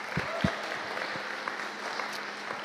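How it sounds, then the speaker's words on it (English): A church audience claps for Mark, a parking volunteer of two years. The applause is moderate and somewhat distant, with a few close, sharp claps near the start, then a steady patter. "come on, clap your hands for Mark."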